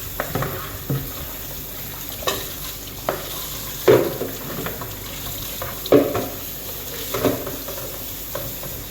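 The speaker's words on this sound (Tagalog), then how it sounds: "kailangan natin hugasan ng 3 beses guys para mawala yung alikabok" Moringa leaves being washed by hand in a basin of water, with intermittent splashes and sloshing bursts recurring every second or so, close up and fairly loud.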